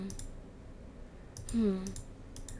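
A computer mouse clicking while playing the detective game Marcella Moon: Killer at the Cove, with a few sharp, close clicks near the start and end over a low background hum, plus a brief rising tone in the middle.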